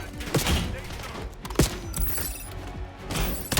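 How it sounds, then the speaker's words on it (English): A grenade going off in the Black Ops 7 video game campaign, with sharp blasts and crunching impacts amid ongoing gunfire and battle noise, loud and close, with a couple of strong bursts. "Grenade!"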